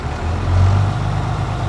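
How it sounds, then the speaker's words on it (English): A 5-ton military truck's diesel engine rumbles low and steady from inside the cab while the truck drives, with a deep even drone and no talk. "this is my last time driving the 5-ton, potentially. Oh, she sounds so good."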